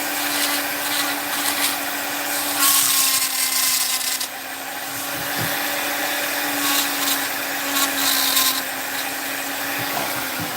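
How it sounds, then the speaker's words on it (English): A rotary tool fitted with a flame burr carves into wood, giving a steady high-pitched whine with grinding hiss that shifts in pitch and dips briefly as the bit bites and eases, alone without talk. "I'm turning it just for a second to be able to get this angle with the flame burr"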